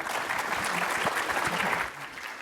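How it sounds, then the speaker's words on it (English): An audience at a rare-disease therapy conference gives dense, sustained applause, loud and close, with faint murmuring underneath before it tapers off at the end. "Let's please give them a round of applause."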